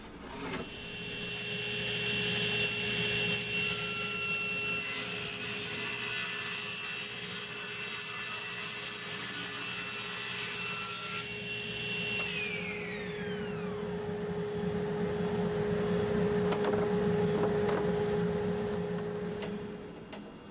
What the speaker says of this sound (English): I'm going to flip them around to the side that hasn't been cut, and I'm going to feed through the table saw.